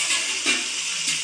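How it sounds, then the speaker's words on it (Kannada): Water pours into a cooking pan of ivy gourd being made into a simple palya, a steady bright splashing rush that swells briefly and runs alone for about a second. "ಅದಕ್ಕೆ ನೀರು ಹಾಕೋತಾ ಇದ್ದೀನಿ ನಾನು"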